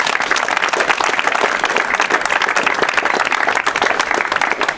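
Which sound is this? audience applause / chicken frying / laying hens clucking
audience applause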